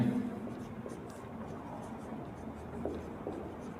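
Chalk or marker scratches across a board during an optics physics lecture, faint short strokes under a quiet roomy background with a voice speaking.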